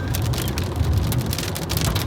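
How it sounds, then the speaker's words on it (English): Steady rain falls outdoors under gray clouds, a dense continuous hiss of drops on surfaces with no voices over it. "But oh look, it's raining."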